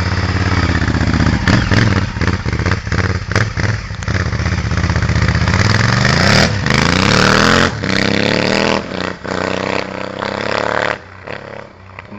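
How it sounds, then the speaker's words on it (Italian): A 100 hp Transoriental motorcycle engine prepared by Giglioli Motori revs loudly up close in repeated throttle bursts and drops, with a rough clattering edge and a brief quieter idle near the end. "che motore, 100 cavalli, preparata da Giglioli Motori."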